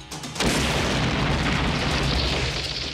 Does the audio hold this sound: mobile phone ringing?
no